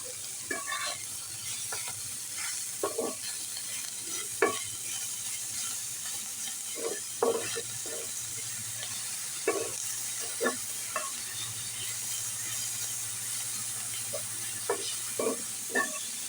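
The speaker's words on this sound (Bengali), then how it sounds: "সজনে পাতাগুলোকে আমার ভালোভাবে করে ভেজে নেওয়া হয়ে গিয়েছে" Moringa (sojne) leaves are stirred in a pan, with soft, intermittent scraping strokes over a faint, steady sizzle and a low background hum.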